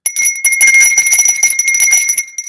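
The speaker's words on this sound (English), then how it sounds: "You get the Virgin Bell" A bright bell sound effect rings repeatedly in quick rhythmic strikes for about two seconds, loud and close, with no talk over it.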